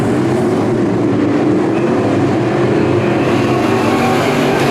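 Sport mod race cars lapping in a heat race at Bakersfield Speedway: a loud, unbroken engine roar that holds steady and dense throughout, close and without pause.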